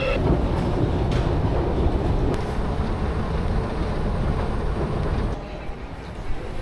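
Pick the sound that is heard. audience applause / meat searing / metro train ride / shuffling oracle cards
metro train ride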